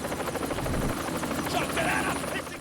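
A helicopter lands in the horror film Dog Soldiers, its rotor chopping in a loud, continuous rhythmic thrum with voices speaking over it.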